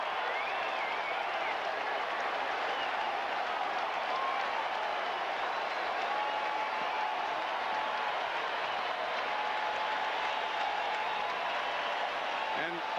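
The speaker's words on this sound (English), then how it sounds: "all around Shea, people are standing and applauding" A crowd at Shea Stadium applauds a game-tying home run in a 1998 Yankees at Mets baseball game, a dense, steady roar of clapping and cheering lasting throughout, with a commentator speaking over it.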